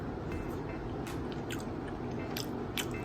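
Someone eats liver pepper fry up close, with soft wet chewing and a few brief crunchy bites over a steady background hum, and no talking.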